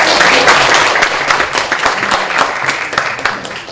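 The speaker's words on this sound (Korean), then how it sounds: "열정적으로 강의해주신 교수님께 다시 한번 큰 박수 부탁드립니다." Applause from an audience at a Korean liberalism citizens' lecture series, thanking the professor after his talk: dense, steady clapping from many hands that holds at a fairly loud, even level throughout, with no voices over it.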